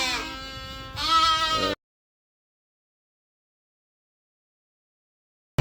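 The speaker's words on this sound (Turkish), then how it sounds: "bu da şimdi yeni doğum yapan koyun" A sheep that has just given birth bleats twice nearby, two loud wavering calls back to back, followed by silence.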